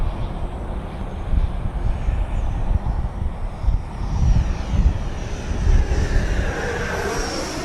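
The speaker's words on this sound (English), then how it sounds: "It is a sport jet." An E-flite Viper 90mm electric ducted-fan sport jet, radio-controlled, roars past at an RC flying field, a steady whooshing rush that swells and fades slightly with wind noise.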